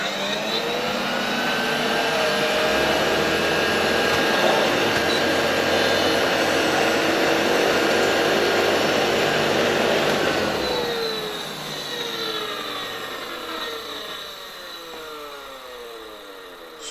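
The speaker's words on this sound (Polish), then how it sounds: "Super odkurzacz, bardzo fajnie działa. Turboszczotka mam wrażenie, że też działa." Vorwerk Kobold VK116 vacuum cleaner with its turbo brush running, a loud steady motor roar with whining tones that drops a notch partway through and carries on at a lower level, no talking.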